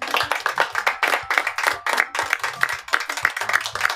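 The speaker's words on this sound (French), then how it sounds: "Veuillez les applaudir." Audience clapping, a brisk, uneven patter of many hands at close range that carries on steadily with no voices over it.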